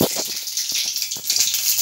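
Black mustard seeds hit very hot oil for a tempering, giving a loud, close, bright crackling sizzle with scattered pops and spits across the brief moment.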